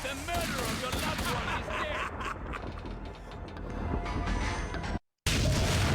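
Rapid gunshots in Max Payne 2: The Fall of Max Payne, loud clustered bursts and clanking impacts in a busy firefight, cut by a brief dropout near the end before the shooting resumes.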